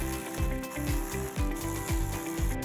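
A ratcheting driver turns screws back into a Raxiom LED tail light on a 2018 Jeep Wrangler Unlimited JL, a close rhythmic series of clicking ratchet strokes, about five quick sweeps, no talking.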